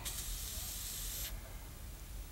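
An aerosol spray can is sprayed onto a temperature probe, a loud, close hissing burst lasting just over a second before it stops sharply, followed by quieter room ambience.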